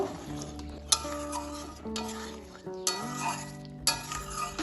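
Doi potol curry stirred in a pan with a spoon, giving repeated scraping strokes and light clinks against the metal over a faint simmer, while background music with sustained tones plays throughout.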